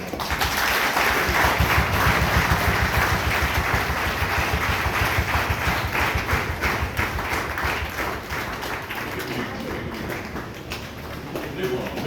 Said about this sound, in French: voyez un bel applaudissement